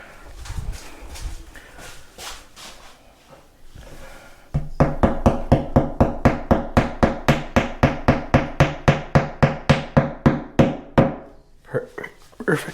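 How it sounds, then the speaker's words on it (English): A steady run of about twenty-five sharp, evenly spaced hammer blows rings out up close during a pantry remodel, following a few seconds of quieter handling noise. "Let me get my hammer."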